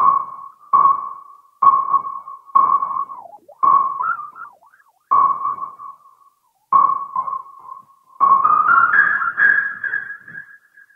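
A Roland SH-201 synthesizer playing a noise-based patch through a delay effect, giving a series of separate pinging tones that each trail off in echoes, then a longer sustained passage near the end, loud and with no voices.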